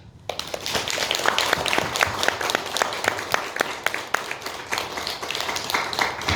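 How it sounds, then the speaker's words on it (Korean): A church congregation claps warmly for baby Jesus during a Christmas sermon, producing dense, sustained applause that fills the room for several seconds without any speech over it. "감사의 박수 뜨겁게 한번 칩시다"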